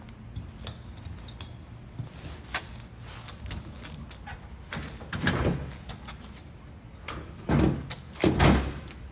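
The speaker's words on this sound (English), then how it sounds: "And then the door slides on like so." Door of a 2022 Keystone Raptor 362 RV slid into place, a few scraping and knocking bursts, with the loudest thumps near the end over low background rumble; no talk.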